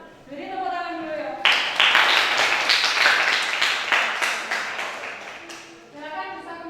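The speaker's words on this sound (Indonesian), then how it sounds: "Jadi tepuk tangan dulu ya." An audience applauds a student group in a classroom. A steady burst of clapping from many hands, loud and close, runs for about five seconds. Voices are heard talking before and after it.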